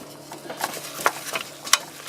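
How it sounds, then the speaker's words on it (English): A spoon stirs food cooking in a pan, with scattered scraping clicks and taps over a low, steady background hiss. "Oh, better give it a stir."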